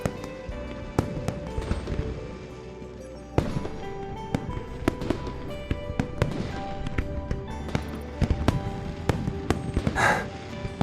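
Fireworks bursting in the video game Love and Deepspace over Hungling City: a run of sharp, loud pops and cracks at irregular intervals, with one big crackling burst near the end and no talking.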